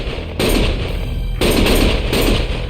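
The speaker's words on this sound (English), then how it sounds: "Stop shooting!" Loud, close bursts of rapid gunfire from the video game Lost Judgment, coming in three sustained volleys separated by brief gaps, dense and continuous within each burst.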